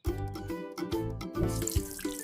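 Water runs steadily from a household tap into a sink during a morning routine, a close, continuous splashing stream with small bursts and gurgles.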